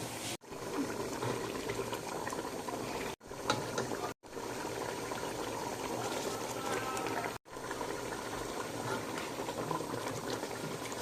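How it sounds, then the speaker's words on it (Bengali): Beef simmers in hot water in a cooking pot, a continuous bubbling and hissing boil, fairly faint, briefly interrupted by a few abrupt cuts. "গরম পানি গরম পানি দিয়ে দিলাম এখন আমি অপেক্ষা করব মাংসটা সিদ্ধ পর্যন্ত"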